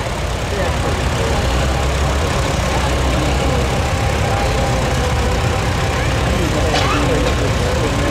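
A 1939 Farmall F20 tractor, rated at 20 horsepower, idles at a steam power show in Sycamore, Illinois, its engine putting out a steady, loud, rough chug throughout, with faint background voices.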